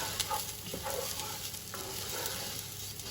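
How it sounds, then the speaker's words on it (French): Lentils are stirred for about a minute in a pot over softened aromatics, giving gentle scraping and shuffling strokes over a soft, steady sizzle, close up with no talk. "Je les remue une petite minute."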